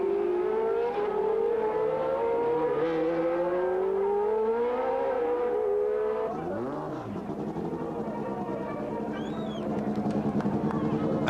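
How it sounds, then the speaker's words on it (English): Benetton Tyrrell Formula 1 car taking the checkered flag at the 1983 Detroit Grand Prix, a loud, high engine whine rising and falling as it passes near, with other race cars droning on after it. "there is a checkered flag for the winner of the Detroit Grand Prix, Michele Alboreto with a Benetton Tyrrell"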